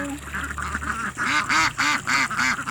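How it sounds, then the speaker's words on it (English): Close, loud grown ducks, mostly females, quack over and over in a rapid, rhythmic series of nasal calls. "that's a female duck"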